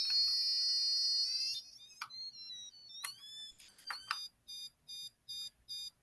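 A Dolphin device set to its negative setting gives a string of electronic beeps: a steady tone, then short chirping and sliding bleeps, ending in evenly spaced regular beeps, close and clear with no talk.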